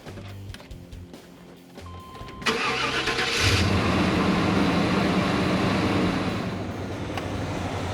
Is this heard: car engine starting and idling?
yes